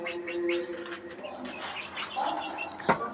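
Roosters and chickens kept in cages on a poultry farm, a few close clucks and short calls with a brief sharp rustle near the end, mixed with faint background voices.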